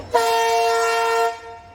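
A train sounds its horn on a trip toward Bishnupur, a loud, steady, multi-tone blast held for about a second before cutting off, over a low rumble of rail traffic.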